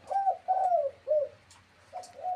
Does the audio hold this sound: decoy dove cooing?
yes